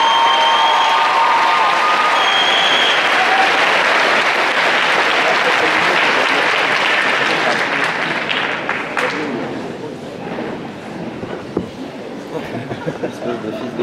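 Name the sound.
audience applauding a Little Mermaid cosplay group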